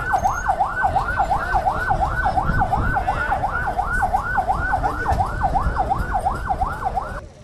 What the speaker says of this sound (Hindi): लेकिन जो एम्बुलेंस है उसे रास्ता दिया जा रहा है। एम्बुलेंस यहाँ से निकल रही है।